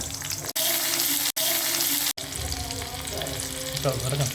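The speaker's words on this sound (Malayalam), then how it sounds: "വെളിച്ചെണ്ണ ചൂടായതിനകത്ത് ചുവന്നുള്ളി ചെറുതായിട്ട് അരിഞ്ഞതിടാം" Finely chopped shallots dropped into hot coconut oil for a Kerala fish curry, giving a close, steady sizzle and bubbling broken by three brief gaps, with a faint voice near the end.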